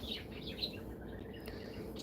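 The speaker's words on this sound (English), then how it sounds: "I have birds in a cage. Parakeets." Three pet parakeets in an indoor cage give faint, scattered high chirps and tweets over a low room hum, with no one talking.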